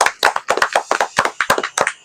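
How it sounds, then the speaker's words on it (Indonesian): Brief applause from a small group at an anthurium plant contest gathering, with quick sharp hand claps in a loose rhythm, close and fairly clear with no talk over it. "Tepuk tangan dulu."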